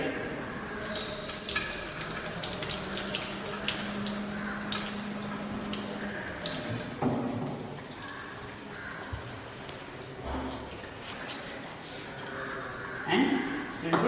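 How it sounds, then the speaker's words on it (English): A 10 ml glass pipette rinsed under a running tap in a chemistry lab: steady water flow with splashing and shifting gurgles as the pipette moves in and out of the stream, under a person speaking. "So it can be washed in tap water like this."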